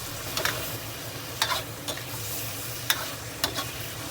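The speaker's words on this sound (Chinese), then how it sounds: "加入调好的料汁儿，再继续炒，炒出酱香味儿" Chicken stir-fried in a wok with star anise, dried chili, scallion, ginger and a mixed sauce, giving a steady low sizzle broken by about five sharp spatula scrapes, close and moderately quiet with no talking.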